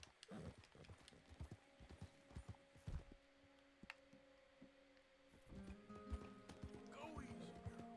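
Horse hooves clop in uneven steps close by in the video game Red Dead Redemption 2, with a soft whinny and low ambient hum, under quiet game sounds.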